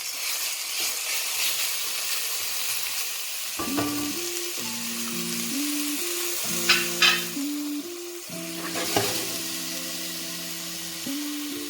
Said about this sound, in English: let everything fry